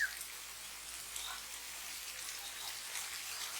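Faint, steady patter of rain falling at night on an unlit road, soft and continuous with a few scattered drops standing out, no voices.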